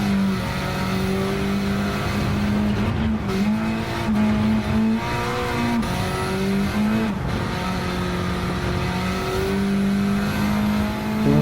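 Race car engine in Gran Turismo 7 revving loudly and continuously through gear changes, pitch climbing and dropping, with brief tire squeal and skidding mixed in, close and unaccompanied by talk.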